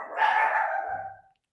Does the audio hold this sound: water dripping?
no